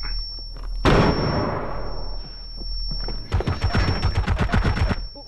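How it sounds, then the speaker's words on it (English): A video-game flashbang grenade bursts with a sharp loud bang and a long hissing decay under a high ringing whine, followed by a rapid burst of gunfire. "That's a flashbang."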